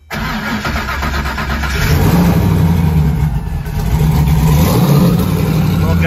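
A hand-built race car engine paired with a 5-speed Lenko transmission revs up loudly and close, rising from a start into sustained high-pitched roaring with several surges of throttle.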